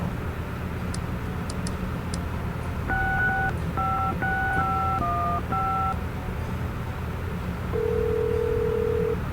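A phone being dialed in the video game Gabriel Knight: a string of short, clear dial tones, one beep after another, then a longer steady tone near the end, over a low background hum.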